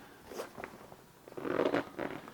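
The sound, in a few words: zipper on back panel of WANDRD Stratus backpack opening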